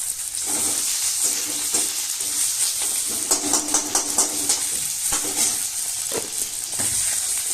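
Onion, chilli, cinnamon and cumin sizzle in hot oil for muri ghonto, a steady bright frying hiss that runs the whole time, close and fairly loud, broken by irregular scraping and stirring clatters.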